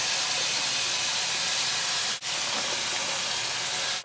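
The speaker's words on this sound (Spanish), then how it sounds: "Y ahora vamos a poner en el mismo sartén, ahí que ya está doradito, la carne molida." Ground beef browning in a frying pan already coated with oil, garlic and onion, giving a steady, loud broadband sizzle with one brief dip midway.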